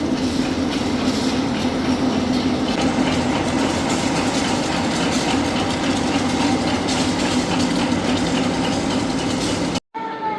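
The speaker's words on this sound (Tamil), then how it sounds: "இதில் பாருங்க, அந்த பெட்டியை இழுத்து கொண்டு போகிறதுக்குரிய ட்ரெயின் வருது." A KTM train in Malaysia arriving to pull container wagons, a loud, steady rumble with rhythmic clickety-clack of wheels and faint squeals, cutting off abruptly near the end.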